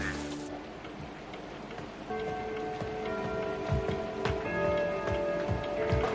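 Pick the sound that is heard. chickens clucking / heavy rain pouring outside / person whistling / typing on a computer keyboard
heavy rain pouring outside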